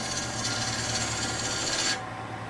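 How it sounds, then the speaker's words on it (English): A tool shapes wood spinning on a lathe, giving a steady, close, raspy scraping that runs continuously and then cuts off abruptly just before the end. "I'm turning wood."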